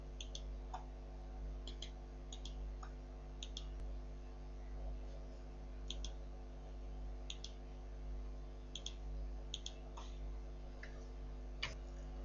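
Sparse, sharp computer mouse clicks, single and in quick pairs, sound at irregular intervals over a faint steady electrical hum in a quiet room.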